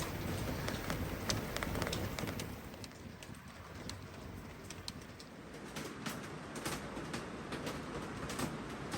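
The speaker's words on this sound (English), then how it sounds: "Oh, the rain has set in," Heavy rain drumming steadily on a sailboat moored near Hen Island, a dense continuous hiss with scattered sharp drip ticks, fairly close and unbroken for the whole stretch, no voices.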